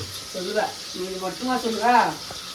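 Onions sauté in a hot pan for a Sunday mutton feast, a steady close sizzle running under someone talking throughout.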